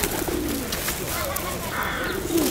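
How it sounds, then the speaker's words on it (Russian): Hungry street pigeons crowd and fight over scattered sunflower seeds at close range, giving repeated low throaty coos over a busy outdoor hum. "О, как дерутся за семечки."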